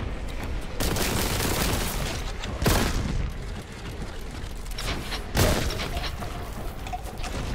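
Heavy bursts of gunfire from a new weapon in Warhammer 40K: Boltgun, loud booming shots at irregular intervals over a dense rumbling backdrop of game noise, with no talking.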